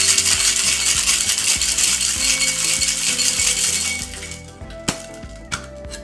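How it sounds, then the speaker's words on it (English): Ice is shaken hard in a large cocktail shaker while mixing a Mai Tai with molasses syrup, giving a loud, dense rattling clatter for about four seconds. A few sharp metallic clinks follow as the shaker is cracked open. "and then shake for about 5 to 8 seconds."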